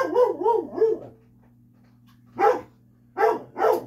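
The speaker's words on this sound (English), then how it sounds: "And hear Charlie bark," A dog barks indoors in short bursts: a quick run of three yelping barks, a quiet pause with a steady background hum, then three more barks, close and moderately loud.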